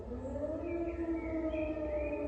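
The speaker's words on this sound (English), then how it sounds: "Yeah, this is air raid siren." An air raid siren wails in a country at war, a steady sustained tone with slowly shifting pitch that holds loud and unbroken for the whole stretch, with no voices over it.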